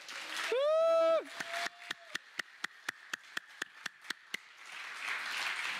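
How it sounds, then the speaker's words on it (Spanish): Church congregation claps in praise, a run of about a dozen sharp, evenly spaced claps in steady rhythm after a brief sung tone, with faint crowd murmur rising at the end. "Dele palmas al Señor"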